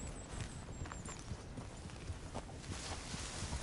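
In a PS4 video game, a horse's hooves clip-clop in a steady walking rhythm, faint beneath a constant broad hiss of background noise.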